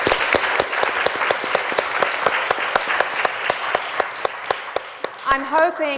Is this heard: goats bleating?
no